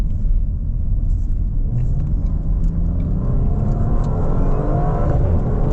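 A 2025 Audi RS4 Avant engine pulling hard from low revs, a steady deep rumble with rising engine tone under heavy road and cabin noise, close and continuous.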